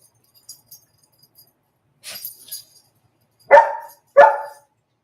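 A dog barks indoors, two sharp close barks near the end after some quieter clinks and rustles, with silence between.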